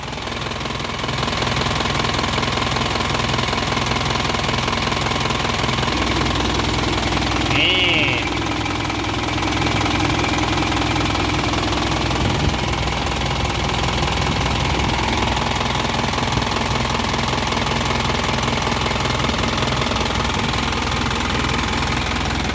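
The diesel engine of a 2006 Isuzu NKR 130-horsepower six-wheel truck idles with a steady, loud knocking rumble, continuous throughout, with a voice talking faintly over it at times.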